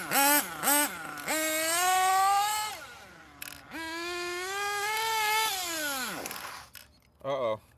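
A Hot Bodies HPI D8S nitro RC buggy with a 3.5 engine screams through long, high revving passes that rise and fall, fading away and returning, with brief talk near the end.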